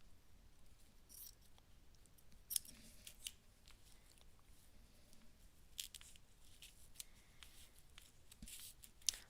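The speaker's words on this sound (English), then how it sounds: "I think I want to cut this in a little bit smaller here." Scissors cut paper for paper dolls: a run of soft, close snips and crisp slicing strokes at irregular intervals, quiet overall with a couple of sharper clicks.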